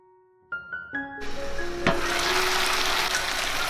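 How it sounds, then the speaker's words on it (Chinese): Chicken pieces in a pan after half a bowl of water is poured in, with the lid on over medium heat. A few short electronic beeps give way to a loud, steady sizzle and bubbling that continues to the end. "再来淋入半碗水，盖上盖子调中火焖15分钟。"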